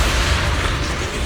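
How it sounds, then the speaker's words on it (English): Explosions in Zenless Zone Zero: dense, continuous rumbling blasts with heavy low-end boom, a steady roar of overlapping explosions without clear pauses, loud and close. "Move in during the gaps between explosions."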